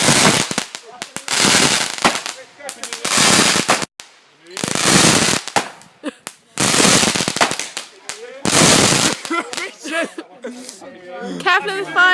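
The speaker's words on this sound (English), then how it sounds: "Careful with the fireworks." New Year's fireworks and firecrackers going off in a backyard near a fence, a series of loud, close crackling bursts lasting a second or two each, with people laughing and talking between them.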